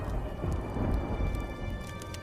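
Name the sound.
thunder and rain sound effect in an animated story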